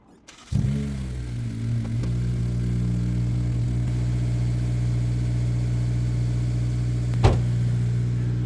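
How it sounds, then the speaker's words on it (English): Honda S2000 engine starts up after sitting unused for a while, then settles into a steady, close idle with an even low hum and a brief click partway through. "We're gonna let the car run for just a second because I don't know, it hasn't ran in a while and I want to burn some gas through it"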